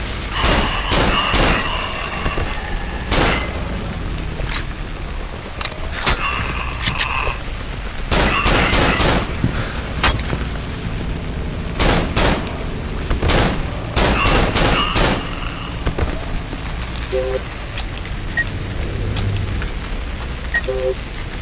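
Gunfire in the horror video game Cry of Fear: repeated sharp shots and bursts, loud and close, coming in irregular clusters with short pauses over a steady background hum.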